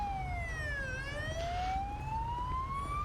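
A police car siren in GTA 5 LSPDFR, a Victorian slicktop VE highway patrol car, wails loud and close, its pitch sweeping down and then rising slowly across a steady low engine rumble.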